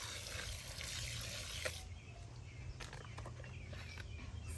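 Water poured from a container into a potted hydrangea, a steady broadband splashing and trickling that runs close and moderately loud, easing off slightly partway through, with no talking over it.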